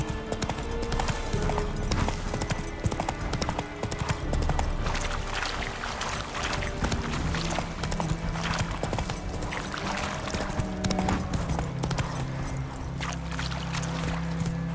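Horse hooves clop steadily in The Witcher 3 video game as the rider urges the horse on, the rhythmic beats sitting under a dense, loud mix of game music and ambience.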